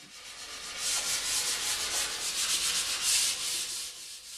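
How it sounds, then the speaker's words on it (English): Sanding a sealer coat with 600 grit sandpaper on a sprayed bookshelf finish, a close, continuous hissing rasp with quick back-and-forth strokes, alone without talk. "The sealer coat I sand down with 600 grit sandpaper"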